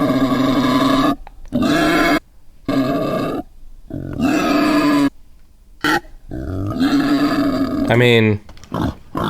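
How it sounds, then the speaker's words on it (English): Recorded feral hog grunts played back in bursts, with deep rough grunting calls separated by short pauses and a speaker talking briefly near the end. "too familiar with like feral pigs, what they sound like"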